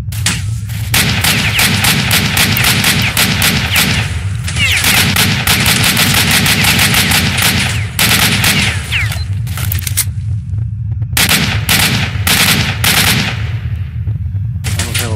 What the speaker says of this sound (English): Good at this range with this AK.